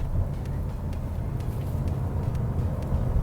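A 2021 Subaru XV with a CVT driven in sport mode while paddle-shifting through simulated gears, a low steady engine hum heard from inside the cabin with faint road noise and small clicks.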